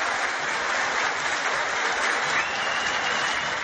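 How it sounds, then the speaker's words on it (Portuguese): A Pernambuco stadium crowd at a football match in Recife gives coach Abel Braga loud, continuous applause, a dense roar of clapping that holds steady throughout. "foi recebido com muitos aplausos pela torcida pernambucana"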